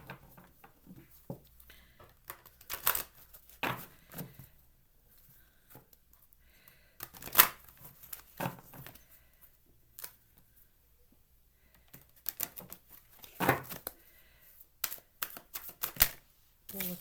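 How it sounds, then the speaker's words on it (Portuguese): A tarot deck is shuffled by hand in quiet bursts of soft riffling and tapping patter, close and fairly faint, with short pauses between. "Deixa eu só embaralhar."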